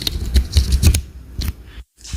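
A 3.5 mm headset microphone jack is pushed into a phone socket, giving a few close scraping clicks and rustles before a short silence.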